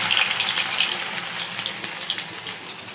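Cucumber vada batter dropped into hot frying oil gives a steady, loud crackling sizzle that stays dense and hissing throughout, with no talking.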